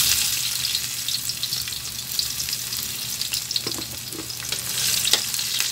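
Garlic fries in oil in a hot pan, a close, steady hiss and crackle with a few light stirring knocks, no voices over it.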